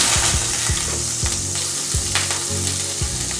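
Butter sizzles loudly and steadily in a preheated pan, a close, continuous frying hiss with occasional scraping clicks, and no voices.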